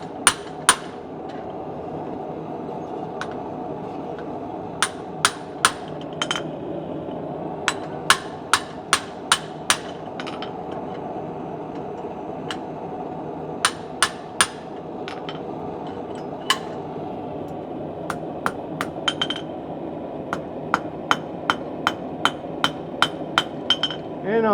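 A blacksmith hammers hot steel while forging a candle holder with a heart handle, tapering it at a fuller. Sharp ringing hammer strikes land in irregular bursts and quick clusters over a steady background hum.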